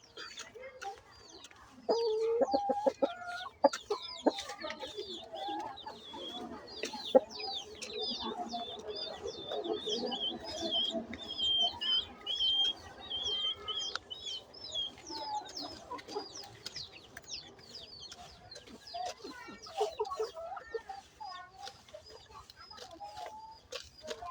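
Chickens being fed from a mug, several birds clucking and chattering close by in a busy, continuous stream of short calls, with a person's voice talking at moments.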